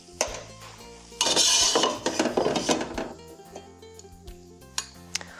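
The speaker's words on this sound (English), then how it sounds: "we're going to take half of these onion mixture out and set it aside for later" A metal spoon scrapes and clinks against a pan while sautéed onion mixture for spiced red lentils is scooped out, with a brief louder scraping burst followed by lighter scattered taps.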